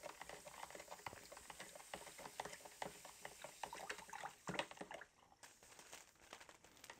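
A mixing spoon stirs potassium ferricyanide into warm water, giving a continuous close, busy swishing and liquid churning with small clinks, fading slightly near the end; no talking.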